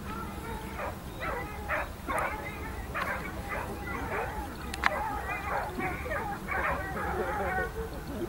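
Several hunting dogs bark and yelp in repeated bursts at a middle distance during a hunting-dog trial in France, an excited chorus of yips and bays rising and falling.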